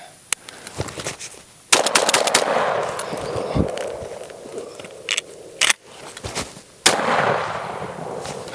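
A Benelli M4 shotgun fires several loud, sharp shots at an outdoor range during a speed reload, with the blasts spaced unevenly and clattering handling sounds between them.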